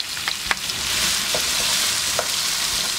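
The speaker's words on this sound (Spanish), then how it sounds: "Vamos a poner a dorar todos estos ingredientes porque vamos a hacer la salchicha." Tomato, green chili and onion hit preheated oil for a sausage mixture, a loud, even sizzle with a couple of quick stirring knocks near the start.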